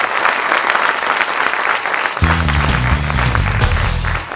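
Audience applause at a university comedy and mimicry show, loud dense clapping that continues as a low musical sting or bass rhythm cuts in partway through.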